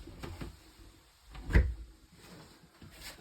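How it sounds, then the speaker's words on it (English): A bathroom door in a 2021 Forest River FR3 32DS motorhome swings shut with a single soft thud midway, alone against a quiet room. "Shutting the door closed there."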